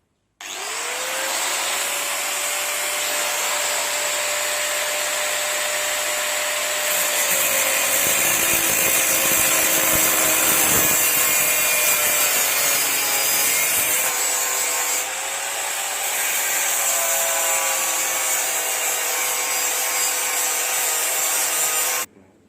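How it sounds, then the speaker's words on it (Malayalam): A power tool cuts through the steel carrier stay of a bicycle during a homemade cycle water pump build, giving a loud, steady grinding whine that runs almost unbroken for about twenty seconds with no voices. "അപ്പോൾ നമുക്ക് ഇവിടെ നിന്ന് കട്ട് ചെയ്തെടുക്കണം."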